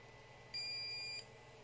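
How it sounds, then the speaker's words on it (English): A single steady electronic beep from a drone ESC as its capacitors charge, high-pitched and clean, lasting about half a second over a faint background hum. "That short beep was basically just the ESC's charge and capacitor charging up."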